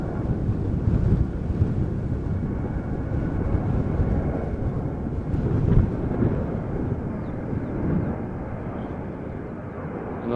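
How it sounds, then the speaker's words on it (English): A KLM Boeing 737 departing Amsterdam Schiphol produces a rumbling engine roar at moderate distance, swelling slightly midway, mixed with gusty wind buffeting the microphone. "Another 737 from KLM."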